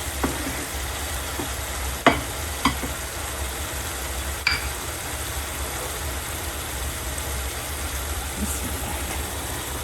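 Eggs cooking in masala over a slow flame give a steady, soft sizzle, with a few faint scrapes and clicks of a utensil against the pan.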